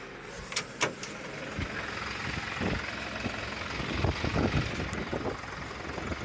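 Tractor engine running steadily while a seeder top-dresses winter barley, a constant low drone with a few sharp clicks and knocks over it.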